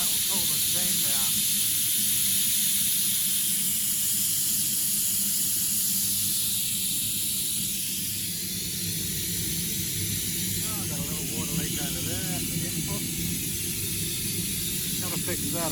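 Steam hisses continuously and loudly from a rocket stove steam boiler with a waste oil burner running at 40 PSI, a broad steady rush with faint voices murmuring underneath.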